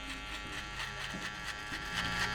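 A cordless hair clipper buzzes quietly as a barber trims a man's hair just below the zero line, a thin steady electric hum with slight wavering as the blades move through the hair.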